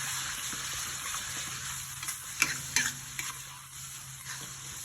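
Spicy sambal frying in a small pan, a bright continuous sizzle with scraping stirs and a few sharp spatters near the middle, heard up close with no talk.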